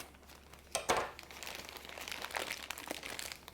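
An Italian military MRE ration pouch is cut open down its side, giving crisp crinkling and rustling of the packaging, with a sharp snip early on and then steady close crackling handling noise, no voices.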